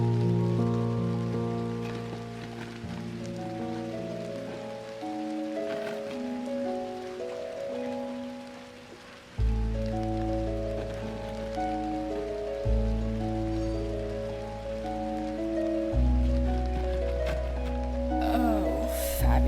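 Steady rain falls as a soft, continuous hiss beneath a slow, sustained musical score with layered tones.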